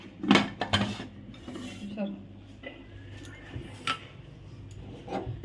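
A lid goes onto a cooking pot during home fish curry preparation, giving a few close metallic clanks and clatters at the start, with quieter knocks and rattles afterward.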